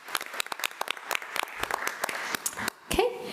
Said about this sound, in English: let's give Ms. Phoenix another round of applause